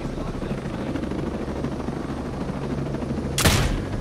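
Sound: helicopter in video game Ghost Recon Breakpoint

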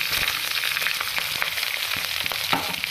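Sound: cooked potato slices added to frying sabudana khichdi

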